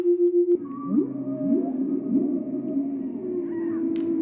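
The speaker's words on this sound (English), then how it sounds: "I think this is supposed to sound like what it would be to be like swimming with porpoises" Long, wavering electronic tones from a Roffie N500 sleep sound machine's porpoise setting swoop and moan over a low drone, like porpoise or whale calls, after a brief pulsing intro.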